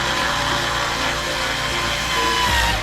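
A power screwdriver drives screws securing the internal part of a Lockly Secure Pro smart lock, a continuous loud buzzing whir with no breaks.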